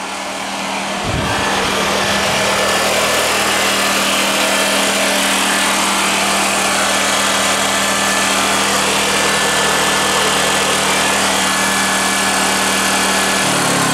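A Honda EX800 generator runs steadily under a heavy load, a loud continuous high-pitched engine drone with a constant hum that holds for the whole stretch before a slight drop near the end, no talking.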